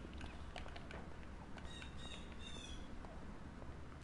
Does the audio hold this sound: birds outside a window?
yes